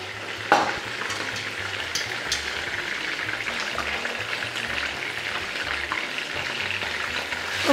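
Pasta dropped into hot olive oil with lemon juice, starting with a sharp splash and then an even, loud sizzle and bubbling that continues throughout, close up with no speech.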